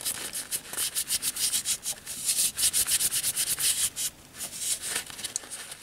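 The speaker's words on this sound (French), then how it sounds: "Et je vais mettre un peu de pâte à polir dessus." Polishing paste rubbed onto a Buck 110 folding knife, with rhythmic, scratchy back-and-forth strokes close up, speeding into a steady burst before slowing, no talking.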